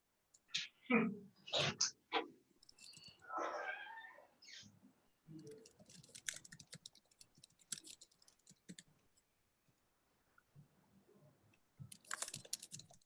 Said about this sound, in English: Myra, maybe mute your keyboard.